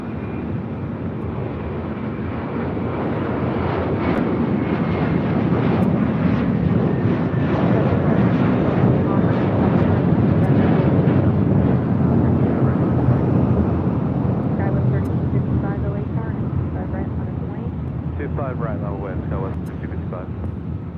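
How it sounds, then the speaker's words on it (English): An American Airlines Airbus A321 departs LAX bound for Dallas-Fort Worth, a loud sustained jet roar swelling toward the middle and easing slightly near the end, with speech layered over it. "That was American Airlines Flight 2766 heading to Dallas, Fort Worth, Texas, in an A321."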